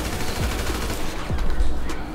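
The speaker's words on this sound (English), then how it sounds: "Y'all see by the settings I made, that's how fast the gun shoot." An addon gun in FiveM fires in rapid bursts, a fast rattle of sharp shots repeating over about two seconds at moderate loudness.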